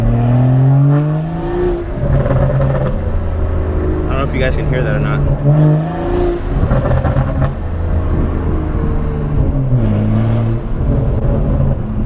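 A BMW M235i fitted with a custom Dinan intake revs nearby, its engine drone rising and falling with a short blow-off-like whoosh, while someone talks over it throughout.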